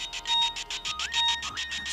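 A mobile phone rings with an incoming call, its electronic ringtone pulsing in a fast, steady repeating pattern close by, with short rising tones gliding in partway through and no talking.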